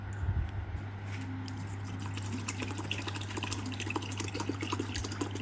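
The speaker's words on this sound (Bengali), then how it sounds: "এবার গোবিন্দভোগের চাল এখানে আমি দু বাটি দিয়েছি চালটাকে এবার ধুয়ে পরিষ্কার করে নিতে হবে" Gobindobhog rice is washed in water, a steady close wash of splashing and running water over a constant low hum, with no pause and no voices.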